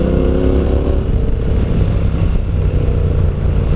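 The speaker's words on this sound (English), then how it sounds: "How good is that exhaust?" A Honda NC750X motorcycle's exhaust rumbles steadily while riding on a twisting road to Wombeyan Caves, a constant mid-pitched drone with faint wind noise and no talking.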